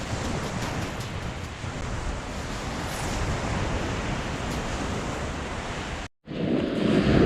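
Sea surf washing onto a shore during a flatfish fishing outing, a steady broad wash of breaking waves with wind rumble on the microphone, briefly cut out near the end before returning louder.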